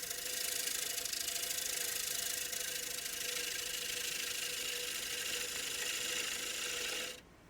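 A cherry bowl spinning on a wood lathe gives a steady motor hum with a continuous cutting rasp for several seconds, then the sound drops off sharply at the end.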